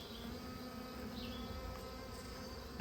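Honey bees drone steadily around an open rescued hive, a faint continuous buzz with a few individual bees passing close, no talk.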